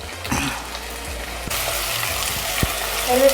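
Small country onions sautéing in a pan, a steady frying hiss that brightens midway as they are turned, with a few spoon knocks against the pan, close and alone without voices.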